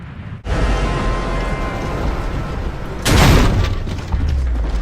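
An incoming mortar in the Gears of War: Judgment video game lands with a deep, sustained roaring rumble and a second louder blast partway through, close and heavy.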